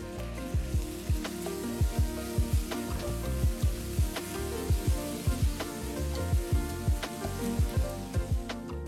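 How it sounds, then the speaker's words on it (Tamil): Ginger garlic paste sizzles steadily as it fries with onions in a pan, with a soft rhythmic thumping beat running underneath. "வெங்காயம் வதங்கினதும் 1 டீஸ்பூன் இஞ்சி பூண்டு விழுது சேர்த்து கலந்து விடுங்க."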